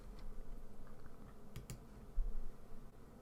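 Mac keyboard shortcut Command R pressed for rulers, a couple of soft, close key clicks in quick succession against a quiet room hush, no talking.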